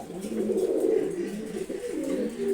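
A giribaz pigeon coos close by, a low throaty warbling repeated in soft rolling phrases.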